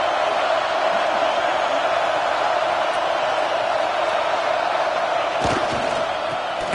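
A stadium crowd in the college football video game College Football 26 roars in a steady, sustained wash of cheering throughout, with a brief sharp burst near the end.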